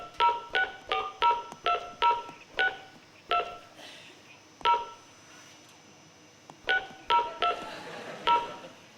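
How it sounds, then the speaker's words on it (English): Mobile phone dialing tones beep in two quick bursts of keypresses separated by a pause, clear and close, each short electronic tone crisply distinct in an otherwise quiet room. "Let's see if it works, shall we? I'm going to dial."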